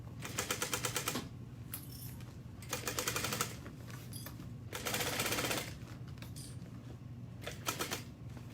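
A sewing machine stitching fabric at a 3.5 stitch length, running in several fast whirring bursts with short pauses between, close and clear with no talk.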